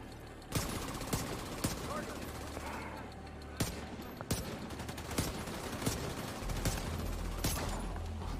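Sharp single shots from a Liberty pistol in the video game The Division 2, about a dozen loud cracks spaced irregularly over a busy combat background, with a voice talking between some of them.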